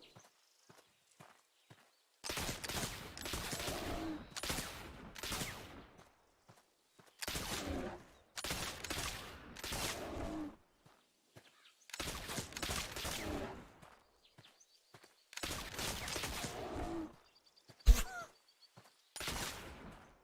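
Gunshots in The Oregon Trail game set in the 1800s American West, several sharp bursts of firing in separated clusters amid hoofbeat-like clatter, with one loud isolated crack near the end and quiet gaps between.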